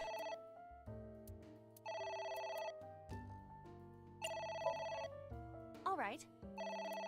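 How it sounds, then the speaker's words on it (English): A telephone rings in the video game AI: The Somnium Files, bright electronic ring bursts repeating in an on-off pattern with short gaps between them, clear and prominent in the mix. "It's ringing again."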